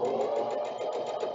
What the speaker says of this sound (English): I'm going to sew a couple stitches,